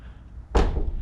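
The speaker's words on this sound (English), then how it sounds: "Opening the doors." Heavy pole barn doors swing open with a single solid thunk partway through, followed by a low lingering rumble, close and fairly loud with no talking.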